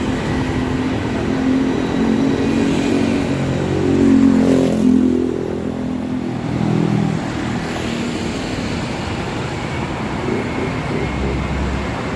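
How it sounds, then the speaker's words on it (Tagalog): An MRT-3 elevated train rumbles past near Quezon Avenue Station in Metro Manila, a loud, steady roar that swells in the middle and then recedes among city traffic noise. "Yan, ito yung MRT3 na dumadaan."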